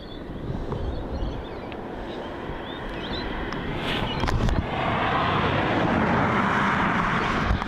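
A China Eastern airliner, flight MU738 bound for Shanghai, taxis toward runway 34 at Melbourne Airport, its engines a steady, moderately distant roar that swells slightly partway through.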